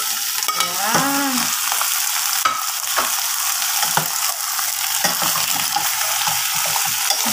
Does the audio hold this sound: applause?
no